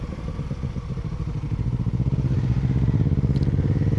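A Honda CB750 Hornet motorcycle idles and rumbles close by, a steady low engine burble with a rapid pulsing beat that grows slightly louder toward the end, with no talk.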